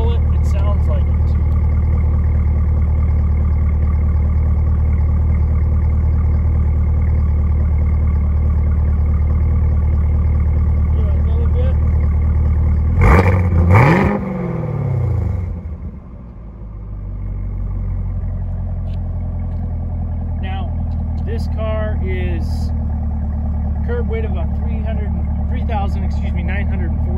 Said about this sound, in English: I know everybody loves an exhaust clip